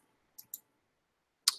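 Three sharp mouse clicks on a computer while working in a Canva design session, two quick ones close together, then a louder one after a pause, in an otherwise quiet room.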